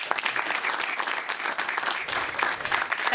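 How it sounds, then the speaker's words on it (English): Steady, dense applause from an awards-ceremony audience at the A-Leagues football awards night, sustained and even throughout, with no break or lull. "Ladies and gentlemen, a round of applause, please."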